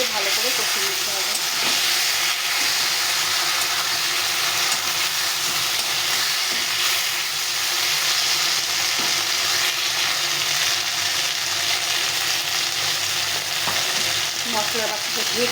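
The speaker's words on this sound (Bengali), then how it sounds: "এখন এখানে মশলা করে নিয়েছি, কাঁচা লঙ্কা, শুকনো লঙ্কা, আদা, জিরে একসাথে পেস্ট করে নিয়েছি। সেটা ভালো করে কষিয়ে নিতে হবে।" A spice paste of green chilli, dry chilli, ginger and cumin fries in a hot pan, giving a loud, steady, close sizzle that runs unbroken throughout, with faint stirring scrapes underneath.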